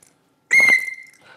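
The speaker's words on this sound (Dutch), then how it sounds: "Dit is hem, de fluit?" A single loud, sharp referee-style whistle blast, close and clear, sounding once for about half a second and then tailing off into silence.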